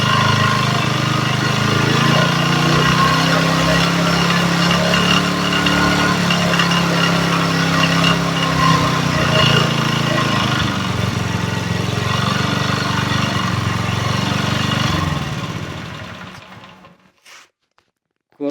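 A homemade generator built from a motorcycle engine and a rewound electric wheel runs at full throttle, roaring loud and steady for about fifteen seconds before winding down and cutting off.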